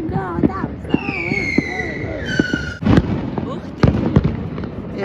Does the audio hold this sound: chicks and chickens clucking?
no